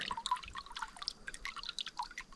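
Water trickles and drips steadily into a livestock trough in the Carpathian mountains, with many small splashy droplets, close by, without any voices.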